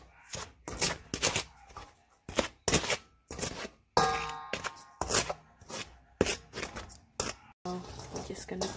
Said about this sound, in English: So we're just gonna mix it.